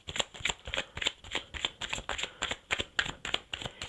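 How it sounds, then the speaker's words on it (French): Tarot cards slapped down one at a time onto separate piles, a quick, steady run of crisp papery snaps, close and fairly loud, with no talking. "je vais recouvrir chaque tas avec une seule"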